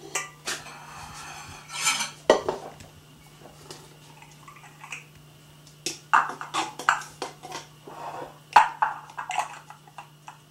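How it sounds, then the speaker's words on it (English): Ingredients, onions and mushrooms for collard greens, going into a cooking pot in a kitchen, heard as a series of clinking pot and utensil knocks and scrapes at close range with no speech. "I'm going to put this in the pot."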